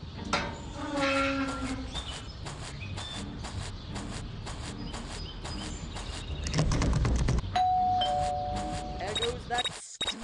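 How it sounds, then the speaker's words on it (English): A doorbell chimes in the Scary Teacher 3D video game, a short tonal ring rising clearly near the end over busy game sounds and a speaking voice. "There goes that stupid bell again."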